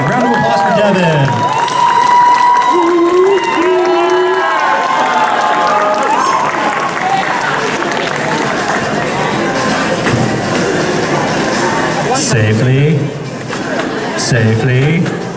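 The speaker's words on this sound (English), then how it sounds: "All right, round of applause for Devin." Audience at a cosplay contest at Quad Con in Peoria claps and cheers for a contestant dressed as a Tusken Raider, a dense crowd wash sustained throughout with an announcer's voice speaking over it at the start and end.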